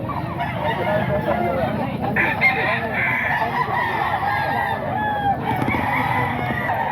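A young gamecock crows at mid distance, with clucking fowl and people talking in the background throughout.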